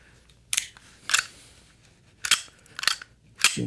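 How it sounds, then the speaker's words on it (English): A Browning BDM pistol being cleared, with its magazine release and action giving five sharp, close metallic clicks in an uneven rhythm against a quiet room. "Let's clear the gun out. Typical magazine release there."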